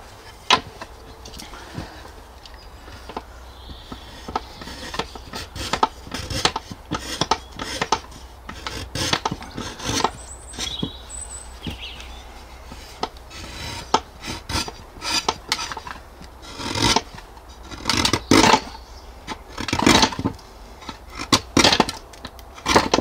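Hand tools scrape and rasp as a wooden clog sole, cut from a log, is hollowed out, with rapid irregular strokes and knocks continuing steadily at close range, no talking.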